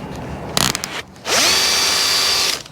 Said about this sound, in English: just getting this drill bit loaded up.